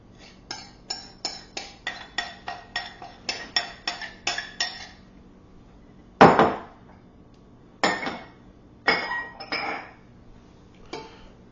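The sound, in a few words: mixing flour into pretzel dough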